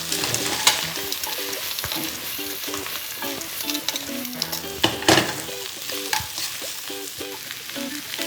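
Bell pepper and salt-blanched canola flower shoots stir-fry in a hot oil pan for beef with oyster sauce, a steady bright sizzle broken by scraping and clattering of the spatula, with soft tonal music underneath.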